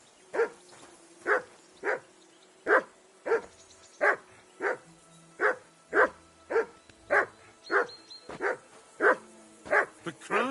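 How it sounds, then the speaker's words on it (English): A dog barks in a steady run of about twenty loud, close barks at a regular pace, with short pauses between them and a faint whimper or yip now and then. "Call off that damn dog!"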